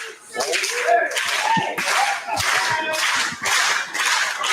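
Live crowd at an indoor wrestling show in a public hall cheering and clapping loudly and steadily through the opening match, with voices shouting amid the noise.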